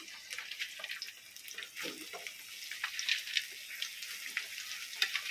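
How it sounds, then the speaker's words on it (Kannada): Kanchala pieces sizzle and crackle as they fry in hot oil, a soft steady hiss broken by scattered popping bursts, fairly quiet and close. "ಎಣ್ಣೆಡು ಫ್ರೈ ಮಲ್ತೈತೆ ನೋಡು ಎಣ್ಣೆ ಕಾಯಿಂಡು ಕಂಚಲನ್ನು ಪಾಡ್ಬೇಕಿಲ್ಲಿ"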